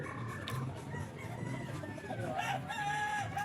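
A bulik rooster crows at a busy pet market among other clucking chickens, the calls moderately loud over a steady crowd and background hum.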